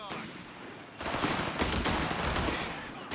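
Sustained machine gun suppressing fire in Company of Heroes 3, a dense, continuous loud rattle of rapid shots that starts abruptly after a quieter opening second and keeps going to the end.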